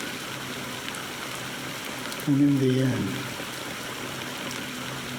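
Steady rain falling in the video game Honkai: Star Rail, a constant soft hiss throughout with a voice speaking briefly over it midway.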